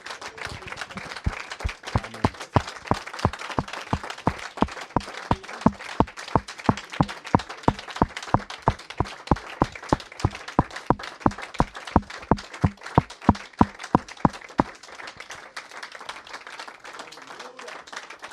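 A worship congregation claps in unison, a strong steady beat of sharp rhythmic handclaps with a busy mix of voices underneath, stopping abruptly near the end.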